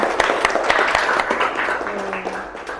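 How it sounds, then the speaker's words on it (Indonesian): A seated audience gives a short burst of applause, with dense clapping that gradually thins out over a few seconds and a faint voice near the end. "Oke, tepuk tangan ke sana."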